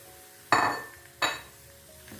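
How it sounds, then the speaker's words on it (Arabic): Chicken breast pieces drop into a hot pan of wilted onions, making two sharp sizzling bursts with metallic clinks that each fade into a low, steady frying hiss. "كيما قاعدين نشوفوا توا البصل ذبل، باش نصبوا توا الدجاج"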